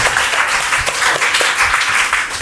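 An audience at a KBC-style school quiz show applauds a young contestant, a loud, dense burst of clapping that lasts throughout.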